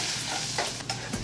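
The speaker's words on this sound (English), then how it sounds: "Then he will put the onion on there." Onion drops into hot oil already holding cumin seeds, garlic, ginger and green chili, giving a brief close sizzle with a couple of stirring scrapes.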